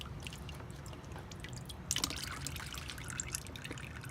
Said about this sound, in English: So now we're just gonna let it drain out.